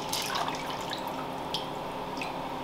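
Water trickles and drips into a pot of popcorn kernels being prepared for a mushroom-growing batch, a continuous low splashing with a few brighter drips near the end.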